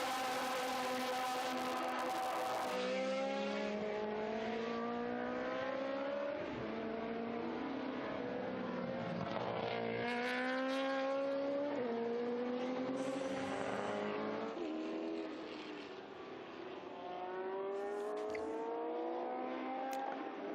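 A Porsche GT2-class race car, the Patrick Simon number 80, at a historic racing event at Estoril: a loud, close engine howl that rises and falls through gear changes, sustained over the whole stretch.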